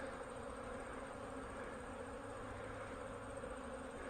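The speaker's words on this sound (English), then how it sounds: "the bees are just going crazy getting their cleansing flight in" A steady, continuous buzzing hum of many honey bees on a cleansing flight around their hive boxes, close by and fairly loud, with no voices.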